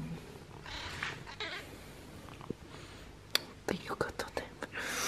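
A small all-white cat with a few orange patches purrs and gives soft meows, close and quiet, with several short sharp sounds near the end.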